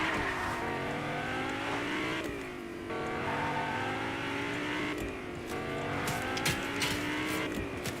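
A car in the Fortnite video game drives with a continuous engine drone that rises and shifts in pitch, with tire squeal and a few sharp clicks layered on top, with no talking.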